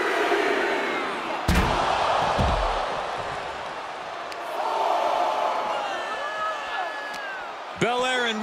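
Arena crowd in WWE 2K24 roaring and cheering throughout a women's wrestling match between Bianca BelAir and Rhea Ripley, with a sharp slam impact near the start and a commentator talking over the steady crowd noise.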